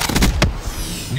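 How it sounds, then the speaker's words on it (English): In Call of Duty Black Ops 3, a grenade explosion bursts loudly as a quick cluster of sharp, close blasts, then fades into a brief rumbling tail. "Incoming grenade."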